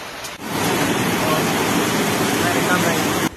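A river in Kampung Jamba, swollen by heavy rain, overflows and floods homes with a dense, continuous rushing roar of water heard close and loud.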